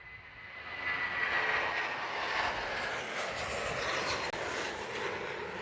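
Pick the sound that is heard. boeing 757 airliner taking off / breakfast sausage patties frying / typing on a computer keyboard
boeing 757 airliner taking off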